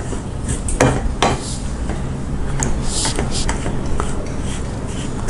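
Gram flour roasting in a pan for kadalai maavu laddu, stirred with a metal spoon that scrapes and clinks against the pan in irregular taps and knocks, close and fairly loud.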